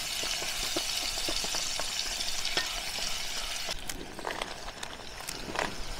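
Onions and tomatoes with salt cook in a pan at a forest campsite, giving a steady sizzle with scattered clicks and scraping taps throughout, louder utensil knocks near the end.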